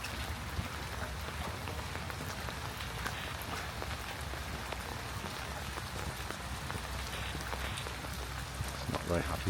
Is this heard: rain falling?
yes